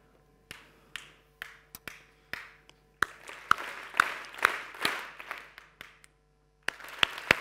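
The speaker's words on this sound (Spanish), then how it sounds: "Vamos a hacerlo con palmas." Rhythmic hand clapping in a lesson on pulse, played on a solid floor: single sharp claps at a steady beat, then a denser run of overlapping claps from a small group, a pause, and a few more claps.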